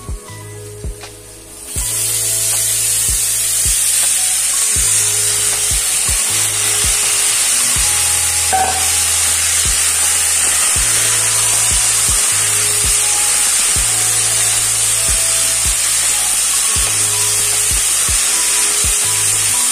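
Chopped potatoes frying with browned onions in a pan give a loud, steady close sizzle, broken by regular low knocks from stirring that keep a rough rhythm throughout.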